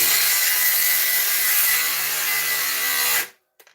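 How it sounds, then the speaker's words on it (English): A cordless grinder whines loudly and steadily for about three seconds, then cuts off abruptly, leaving a few faint clicks. "Why everybody wants cordless grinding."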